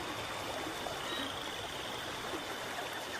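Steady, even flow of water from the video game NeverMind, a continuous trickling stream with no clear rhythm, moderately loud and uninterrupted throughout.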